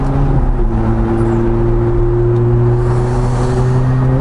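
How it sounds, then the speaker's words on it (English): A car with a cold engine drives at steady low revs without being pushed, a loud continuous drone with a steady low engine tone and road noise, close up, no talking. "Not revving it too much at the moment because, well, engine's cold."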